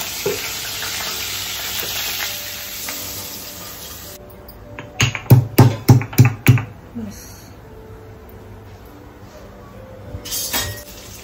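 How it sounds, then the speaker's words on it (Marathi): Garlic, curry leaves, asafoetida and onion frying in oil in a home kitchen make a thin, steady hiss that fades, followed by a quick run of clattering utensil knocks and clinks, with a voice talking faintly nearby. "तेलावर मामींनी टाकलेलं आहे लसूण, कढीपत्ता, हिंग टाकलेला आहे"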